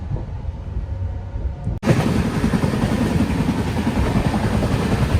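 The Telangana Express, a passenger train running between Hyderabad and New Delhi, rushes along at high speed heard from inside a first-class coach, a steady dense roar that jumps suddenly louder partway through and then holds.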